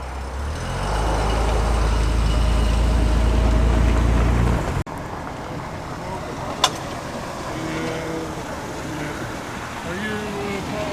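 A classic Morgan sports car from Malvern pulls in at a classic car road run, its deep engine rumble loud and close for several seconds before cutting off sharply, leaving quieter outdoor ambience with a brief click.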